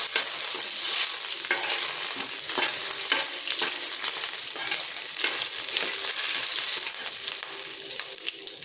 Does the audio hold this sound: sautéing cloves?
yes